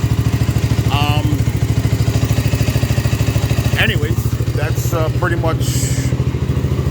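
ATV engine idling close by with a rapid, even putter that holds steady throughout, while someone talks over it.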